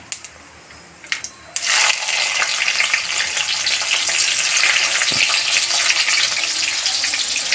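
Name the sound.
green chillies and onion frying in hot oil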